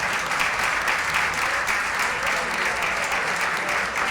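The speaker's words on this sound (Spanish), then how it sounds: "Por favor, un fuerte aplauso." A steady, dense round of audience applause carries on for several seconds at an even level, with no voices over it.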